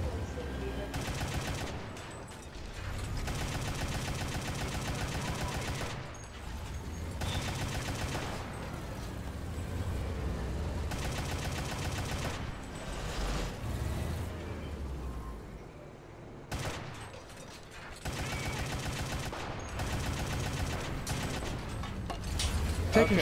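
Gunfire in a tank battle video game, repeated shots and bursts over a steady low engine rumble across a long stretch, moderately loud with brief quieter gaps.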